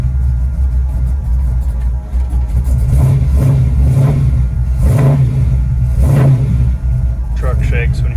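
A 1969 Ford F100 truck engine with no choke revs in several strong surges over a steady, loud low rumble, close by and filling the whole clip.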